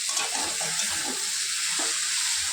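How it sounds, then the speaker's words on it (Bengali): Fish heads frying in a pan with ginger paste added, a continuous close sizzle with soft stirring movements. "এবার আমি দিয়ে দেবো আদা বাটা"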